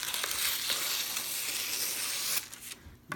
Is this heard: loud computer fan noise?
no